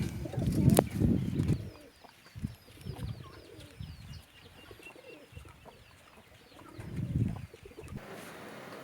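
Pigeon chicks call with faint, repeated high chirps running steadily through a farm scene, alongside louder low cooing and clucking from poultry nearby, with no talk.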